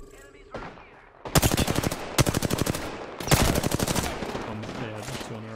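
Rapid automatic laser gunfire in the video game Apex Legends, two long sustained bursts of loud, tightly spaced shots with brief gaps, followed by fainter game sounds.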